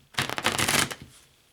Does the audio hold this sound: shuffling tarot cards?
yes